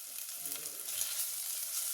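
Finely chopped onion sizzling in hot oil in a pan while being stirred, a steady close hiss with faint scraping underneath.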